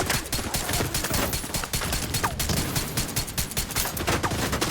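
Dense, sustained automatic gunfire in The Division 2 video game, with rapid overlapping shots that stay loud and continuous throughout.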